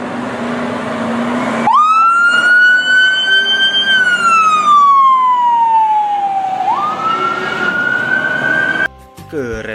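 A fire truck's siren wails loud and close, rising, sweeping slowly down and climbing again over an engine rumble before cutting off abruptly near the end.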